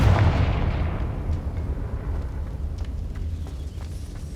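A Confringo fire-blast spell in Hogwarts Legacy goes off as one heavy explosive boom that decays into a long, rumbling roar and then crackling debris, loud and close, with no voices.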